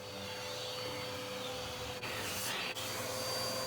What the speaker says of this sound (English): Let's get the vacuum on this side.